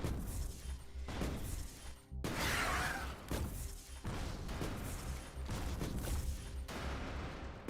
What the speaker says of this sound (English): I love grenade launchers.